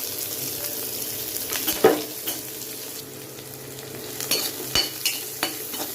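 Onion sautés in oil with popped mustard seeds, a low steady sizzle broken by a few sharp clacks of a spoon against the pan, no speech.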